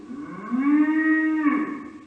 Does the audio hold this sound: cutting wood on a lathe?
no